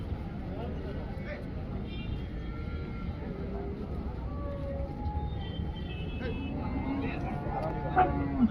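Cattle mooing at the Chintamani cattle market, several drawn-out low calls from different animals over a busy crowd murmur with people talking throughout.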